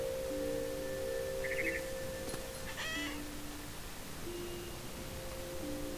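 Cat meows in the video game What Remains of Edith Finch, a couple of short faint calls over a steady low game hum and tones, no talking.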